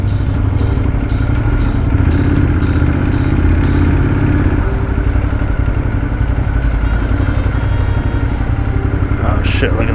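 A LiveWire electric motorcycle rides through Central Park traffic, giving a loud, continuous motor and road rumble with rattling clatter, and a voice speaks over it.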